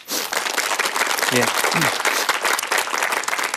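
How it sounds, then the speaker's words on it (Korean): Dense applause from an audience at a talk concert, loud and sustained, with a brief voice surfacing partway through. "한번 박수 한번 크게 쳐주시죠."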